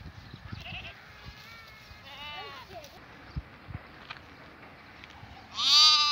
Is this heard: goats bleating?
yes